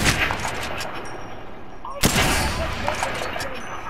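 Loud gunfire in the video game Apex Legends, with a dense rapid-fire burst followed by a sharp blast and continued shooting.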